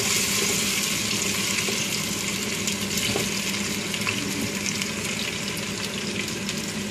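Potatoes sizzle steadily in melted beef fat in a pan, a loud, continuous frying hiss with small crackles and pops running through the whole stretch.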